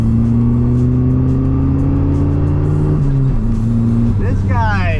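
A rough-running $2,500 car engine, down a cylinder with its timing off, revs loudly and unevenly close by, pitch wavering and dipping, while a voice talks over it.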